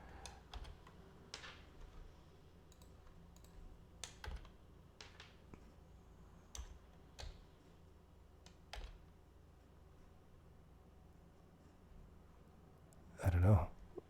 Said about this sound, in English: Type in -1 sign, then the ticker symbol.